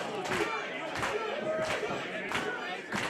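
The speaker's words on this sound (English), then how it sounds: "See this crowd, you hear them railing behind him." Arena wrestling crowd shouting and roaring behind a match, with rhythmic bursts of yelling and some clapping under steady background noise, fairly distant.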